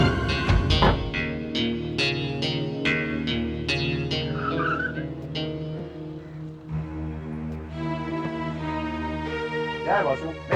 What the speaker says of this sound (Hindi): बासु जल्दी कार चलाओ